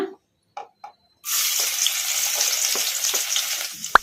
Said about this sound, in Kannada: ಬೆಳ್ಳುಳ್ಳಿ ಹಸಿ ವಾಸನೆ ಹೋಗೋವರೆಗೂ ಫ್ರೈ ಮಾಡ್ಕೊಂಬಿಡೋಣ